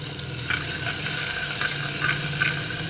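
Ginger and garlic sizzling in hot oil in a clay pot while being stirred, a steady close frying hiss with a few soft scraping strokes, no voices.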